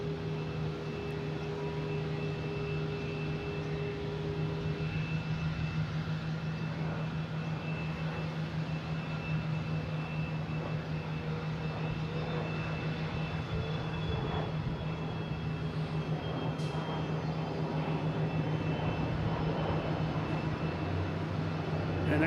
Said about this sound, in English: next taking off is a ghost flight. What is this one? It is a Embraer Phenom.